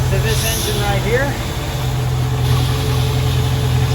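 An engine hooked up for a de-salting flush runs steadily at a constant idle, a loud continuous drone with a low hum, with a voice speaking over it.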